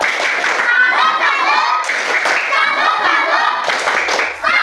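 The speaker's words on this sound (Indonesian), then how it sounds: "Jadi, tepuk salut." Children in a fourth-grade classroom clap together in a patterned 'tepuk salut' routine, a dense, steady run of hand claps that fills the room, with children's voices mixed in throughout.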